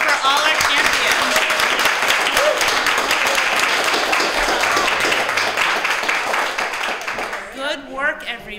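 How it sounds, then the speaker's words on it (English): An audience at a grade 6 spelling bee claps and applauds loudly and continuously, the applause fading near the end as a voice begins speaking. "Let's have a round of applause for all our champions."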